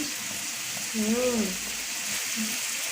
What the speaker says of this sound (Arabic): وبعد ما نحط التوابل نقلبها تقليبه